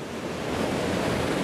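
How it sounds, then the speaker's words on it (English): Waterfall at Glen Maye on the Isle of Man, a steady broadband rush of falling water that stays even and fairly loud throughout, with no voices. "This is Glen Maye, and I'll turn you around and show you in a moment. Beautiful waterfalls."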